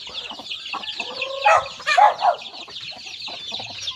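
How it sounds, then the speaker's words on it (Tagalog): Chickens on a farm cluck in a few short bursts amid a continuous high chirping of insects or birds in the background. "Yan yung mga manok guys"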